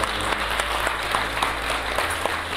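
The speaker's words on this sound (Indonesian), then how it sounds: "Boleh saya minta tepuk tangan sekali lagi" Audience applause at the Miss Mega Bintang Indonesia pageant event, a steady dense patter of many hands clapping continuously throughout, moderately loud with a low hum underneath.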